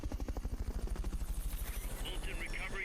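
Helicopter rotor chop from the Metal Gear Solid: Peace Walker video game, a steady rapid thumping pulse that is moderately loud and then softens toward the end, with a brief voice or tone near the close.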